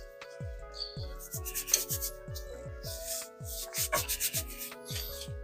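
Gloved hands rubbing seasoning into a pork tenderloin, a series of quiet, close, rhythmic rubbing and squishing strokes with no talk.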